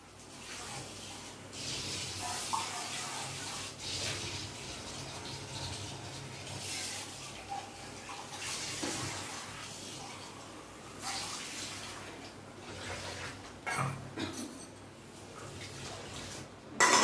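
Water is poured and stirred into a chili and black pepper powder mix to form a batter for a live recipe, a steady running, splashing wash of sound that carries on throughout.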